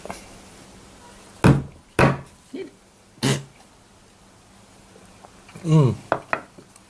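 A bunya nut is split open and dug out of its shell, giving three sharp, close cracks in quick succession with a softer knock between them, then a short burst of voice and clicks near the end.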